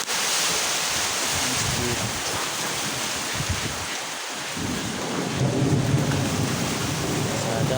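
Thunder rumbles through heavy, steady rain during Typhoon Tino, a dense continuous roar with low booming swells rather than distinct cracks, loud and enveloping throughout.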